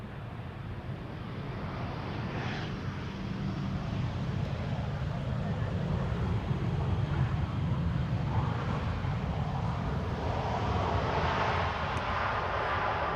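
An EasyJet Airbus A319 airliner arriving at Amsterdam Schiphol Airport gives a broad, steady engine roar that builds from the start and holds loud throughout, with a wind-like rush layered over it.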